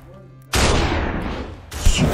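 Gunshots in the video game Superhot, a sudden loud blast followed by a sustained dense roar, then a second sharp burst near the end, with some speech-like sound under it.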